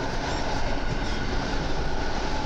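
An EN57 electric multiple unit of Koleje Mazowieckie, number EN57-1566AKM, runs on rails toward Łowicz Główny, heard from inside as a loud, steady rolling rumble and hiss with no talking.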